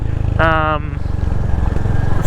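A single-cylinder 2023 Royal Enfield Hunter 350 motorcycle engine idles with a steady low thumping pulse, nearby and fairly loud, with a short tonal burst early on.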